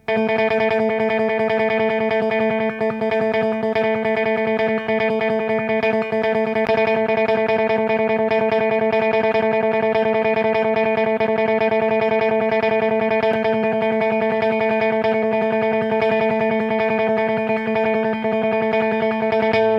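A sustained, heavily effected electric guitar drones continuously at steady loudness, thick with distortion and chorus shimmer, picked repeatedly without pause using a series of different picks.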